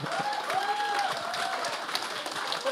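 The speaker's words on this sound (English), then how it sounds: "Oh, big round of applause for Simon." An audience at an emergency care conference session applauds a prize winner with a steady, fairly loud wash of clapping. A faint tonal sound runs briefly through it.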